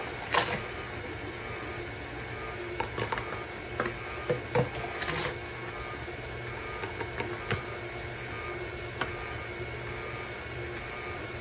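An electric mixer creams butter and sugar for a cream cheese pound cake in a home kitchen. Its motor whirs steadily for the whole stretch, with scattered rattling clicks from the beaters against the bowl.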